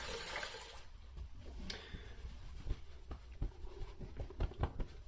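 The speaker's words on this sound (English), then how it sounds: "Let me just wash off real quick." Water splashes and drips in a sink as a face is rinsed after a shave, a run of soft, close splashes and patters that turn into sharper irregular splats toward the end, quiet and with no talking.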